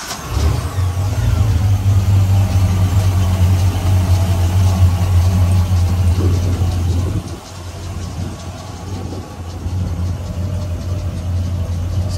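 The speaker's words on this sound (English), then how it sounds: "This is the port side start, starboard start." Twin engines of a Sea Ray 310 Sundancer boat starting up and revving, a loud steady drone that drops off abruptly midway, then returns as a second engine runs and idles.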